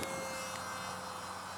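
Scratch-built 1/32 scale SR-71 model pusher jet flying a half-throttle loop, a steady continuous whine from its engine holding level throughout, alone with no talk.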